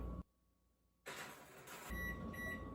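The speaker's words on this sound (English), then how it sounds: "Setting the kitchen timer." A kitchen timer being set, giving a short electronic beep over a steady background hum, with quiet pauses between tones.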